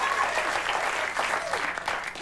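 Studio audience applause during a late-night television monologue, a dense, steady roar of clapping throughout with a few voices and whoops rising in the mix.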